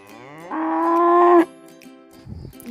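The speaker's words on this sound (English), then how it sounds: "cow." A single cow moos once, loud and close, a long sustained low call that swells and then cuts off, followed by faint rustling.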